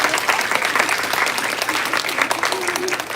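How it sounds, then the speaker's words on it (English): An in-person audience at a teen book event applauds its authors and presenters, a dense, sustained wash of many hands clapping at once that continues evenly from start to finish. "Let's once again give a big round of applause to our authors and our presenters."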